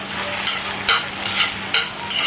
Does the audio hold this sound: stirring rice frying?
yes